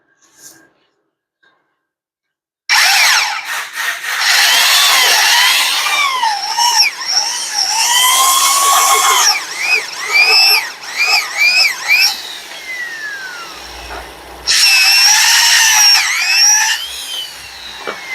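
Homemade conical drill bit boring into an oiled Eaton axle shaft, a shrill screeching grind that starts after silence, wavers as pressure changes, pauses briefly, then resumes near and loud.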